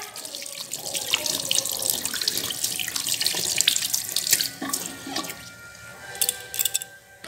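Tap water runs into a sink while katla fish is washed, a continuous close splashing rush with scattered drips and clatters as the fish is handled under the stream.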